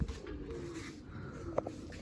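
Pigeons coo softly while being given grain and water in a village loft, a low continuous murmur with a brief sharper call near the end.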